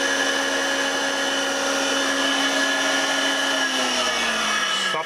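A 440 RPM electric motor, 30 to 40 years old, runs on a variable frequency drive with a steady whining hum and strong tonal drone, its pitch sliding slightly lower near the end as it begins to slow.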